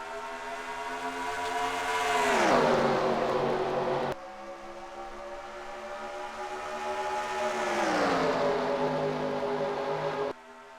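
Race cars scream past one after another at Atlanta in NASCAR Racing 2003, each engine note rising loud then dropping in pitch as it passes close by.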